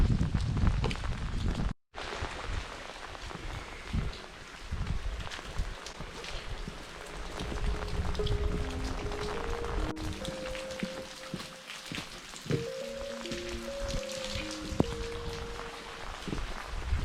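Steady rain patters outside a 15th-century Cistercian fort, a soft continuous wash of drops and wind that lasts throughout, with a few tonal notes drifting in near the end.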